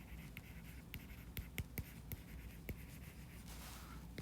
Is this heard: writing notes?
yes